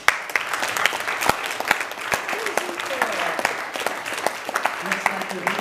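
An indoor audience at a 4-H horse project awards event claps for team volunteers, a steady mass of handclaps with sharp individual claps standing out, and voices talking underneath.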